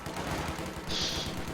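MG42 machine gun in a World War II video game match, rapid rhythmic bursts of automatic fire at moderate distance, steady and fast throughout.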